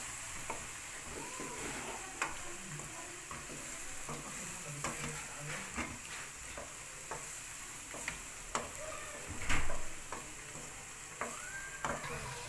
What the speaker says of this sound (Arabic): زيد ليها صدر الدجاج تا تنزل مزيان. لا ماشي دابا، تا تنزل البصله مزيان مع الثومه.